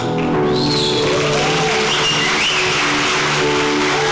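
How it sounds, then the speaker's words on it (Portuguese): A church congregation applauds at a baptism service, a sustained wash of clapping from many hands, loud and close, with a few voices mixed in. "vocês aplaudam o Senhor pela vida deles"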